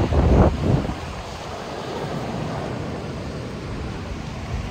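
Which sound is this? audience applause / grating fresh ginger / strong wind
strong wind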